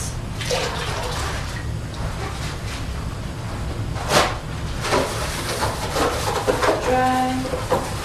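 Water running and splashing as a container is rinsed and emptied in a home health care skills lab, a steady wash of flow with a few louder gushes and knocks, close by.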